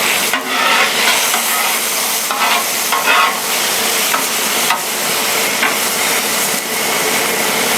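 Red shrimp with snow peas, ginger and water chestnuts sizzle hard on a Blackstone griddle, a loud, continuous frying hiss with bursts of steam and the scrape of stirring, no voices.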